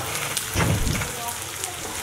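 Ingredients fry in a pan for traditional Andhra-style gongura (sorrel leaf) chutney, giving a steady, close sizzle that swells into a louder crackling burst midway before settling back to a constant hiss.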